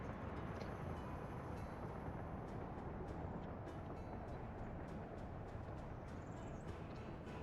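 Trains running in the video game Workers & Resources: Soviet Republic, with a dense, continuous rumbling rail roar and faint metallic clicks and squeals over it, with no talking.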